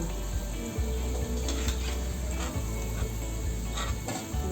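Peanuts frying in oil in a pan after garlic has browned, for adobong mani: a steady, dense sizzle with light scraping and occasional soft clinks of a utensil against the pan.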